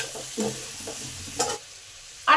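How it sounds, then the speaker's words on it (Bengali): Potatoes frying in hot oil in a pan for a Bengali chicken curry, heard as a few scraping stirs and bursts of sizzle over a soft, steady background. "আলুগুলোকে লাল লাল করে ভেজে নেব।"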